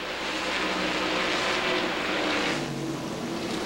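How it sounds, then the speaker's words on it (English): Andy Houston's NASCAR Craftsman race truck engine at the Milwaukee 200 in 1999, a broad roaring drone that swells and fades as the truck passes, heard from a distance with no talk. "Listening to the Houston truck."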